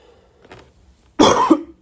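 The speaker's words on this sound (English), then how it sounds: "my cough is really bad" A person with asthma gives a harsh, loud cough close to the microphone, then the start of a second cough, after a stretch of quiet low murmuring.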